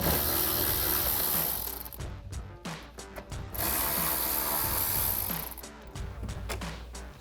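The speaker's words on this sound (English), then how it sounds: "just grab your 7mm socket and pull those out" Screws come out of a 2024 Mustang GT diffuser with a 7mm socket, giving close, repeated mechanical ratcheting and tool whirring with brief pauses between runs.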